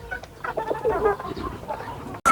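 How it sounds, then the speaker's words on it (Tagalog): Young chickens, hatched in an incubator and now grown, cluck and murmur softly close by in a short run of uneven calls, ending with a sharp louder note. "Ito pa rin yung 3 kong sisiw na galing doon sa incubator. Malaki na rin yung aking sisiw."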